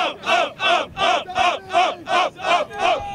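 Rhythmic crowd chanting in a packed arena at a WWE WrestleMania 40 event, eight loud evenly spaced shouted bursts repeating about every 0.4 seconds with no individual talk.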